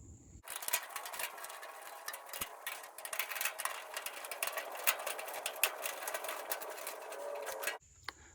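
A screw is backed out with a power driver while a Cuisinart A5 four-burner gas grill is being assembled, giving a steady mechanical whir that runs for about seven seconds with small stutters, then stops abruptly. No one speaks.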